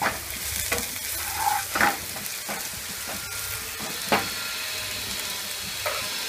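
Red chili powder, coriander powder and turmeric sauté in a pan over medium flame, giving a steady close sizzle broken by a few scraping stirs of a spoon, with no voices.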